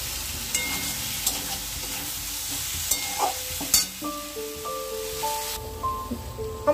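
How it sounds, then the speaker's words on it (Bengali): Spice paste being stir-fried in oil for a fish curry with vegetables, soft sizzling and spoon-stirring scrapes in short bursts, fairly quiet, with a few clinks near the end. "আমার এখানে মশলাটা কষানো হয়ে গেছে"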